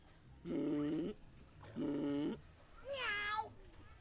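A person imitating a cat gives three drawn-out meows in a row, evenly spaced and fairly close, the last one rising higher and more plaintive than the first two.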